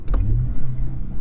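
A car engine revs briefly during a heel-toe rev-match downshift on a manual-transmission car, giving a loud, close, low rumble that rises and holds for about a second, with no talking.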